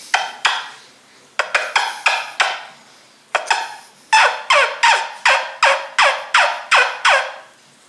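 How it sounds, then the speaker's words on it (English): A turkey wingbone call is blown in bursts of sharp, raspy yelps: a few scattered notes, a short run, then a steady string of about a dozen loud, close clucks and yelps. "That's the basics of a wingbone call."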